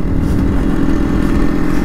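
A fully tuned Yamaha RX135 two-stroke motorcycle engine idles loudly and close by in a steady, dense rumble with slight uneven flutter, with no talking over it.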